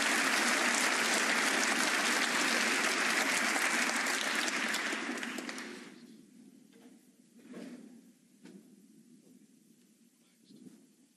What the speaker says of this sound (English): There's some more applause there.